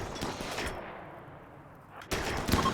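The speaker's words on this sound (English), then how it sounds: "Actually, that was the SMG" Submachine gun fire in the RimWorld video game: a short burst of rapid shots at the start, a pause with low rumble, then another loud burst near the end.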